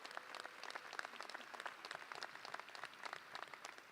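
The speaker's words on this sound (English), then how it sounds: "That deserves a clap." Audience at the 2023 NJCU commencement ceremony claps steadily throughout, a dense wash of many hands from a sizable crowd, fairly even in loudness with no voices rising above it.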